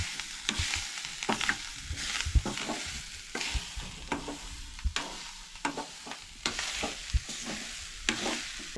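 Beans roasting in a pan for a Goan khatkate stew, with a steady fry hiss and repeated scrapes and clinks as they are stirred, close and alone.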